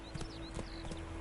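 Roach, the horse in The Witcher 3, gallops in a quick, steady clip-clop of hooves, four or five beats within a second over a constant game hum, close and clear.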